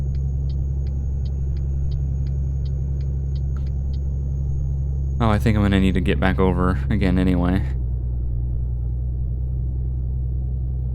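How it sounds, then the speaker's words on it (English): A truck engine in Euro Truck Simulator 2 drones as a deep, steady, loud rumble throughout, with a faint repeating ticking high above it and someone briefly talking over the engine. "I really like the sounds of this truck."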